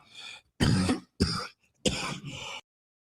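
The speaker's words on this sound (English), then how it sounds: "Don't cough up a lung, old man." A person coughs and clears their throat in three harsh bursts, close and loud, with short pauses between them.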